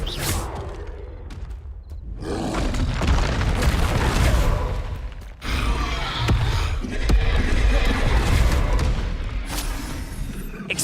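Confringo spells detonate in rapid succession during Hogwarts Legacy combat, producing loud, dense booms and blasts that roll into one another with almost no pause, followed by a short drop and then more explosive rumbling.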